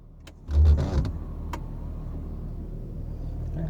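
The rear wiper on a 1996 Jeep Cherokee gives a short motorized whir and thump, then a single sharp click, with a quiet, steady background hum inside the vehicle.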